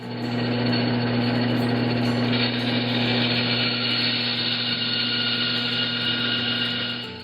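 A power sander whirs continuously on a wooden fishing lure at a steady pitch, loud and close, with a constant droning hum and no voices.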